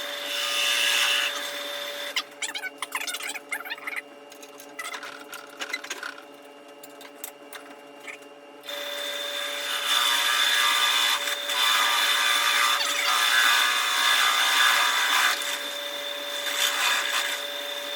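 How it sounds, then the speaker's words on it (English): A drill press hums and whines steadily while drilling a large hole in wood, easing briefly in the middle with scraping and grinding, then running hard again. "We're going to drill one ourselves"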